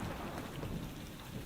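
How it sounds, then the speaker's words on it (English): Steady in-game rain hiss with low rumbling thunder in a theme-park building game, continuous and fairly loud throughout, no voices. "Looks like we're stuck with the rain, guys."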